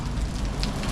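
Rain falls on a city street, a steady, close hiss of many drops pattering evenly on the pavement.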